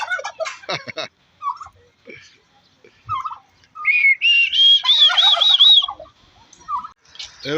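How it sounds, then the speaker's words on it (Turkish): Turkeys at a zoo gobble and cluck nearby in scattered bursts, with a sustained high whistled call run in the middle and short sharp sounds around it. "Bu bildiğimiz hindi yani culuk da denir."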